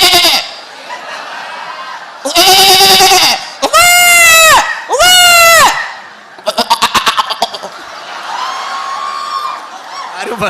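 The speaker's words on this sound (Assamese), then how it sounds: "এখাতে ছাগলী চাউণ্ডটো দিব দেই ছাগলী" Goat bleating sound effect at a comedy Bihu stage show: several loud, wavering, nasal bleats in close succession, some long and quavering and others clipped, followed by a rapid stuttering bleat and a lingering cry, all near and prominent.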